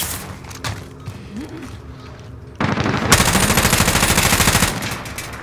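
Rapid automatic AK rifle fire in Call of Duty Warzone, a loud sustained burst of close shots lasting a couple of seconds after quieter game noise.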